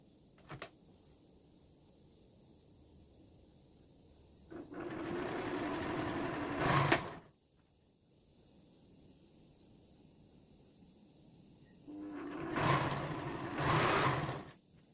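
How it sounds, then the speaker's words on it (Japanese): A sewing machine stitches fabric strips together for a patchwork nap blanket, running in two steady bursts of roughly two to three seconds each, separated by a quiet pause, close by with no talking. "12本の短冊セットを中表に合わせて縫い合わせます"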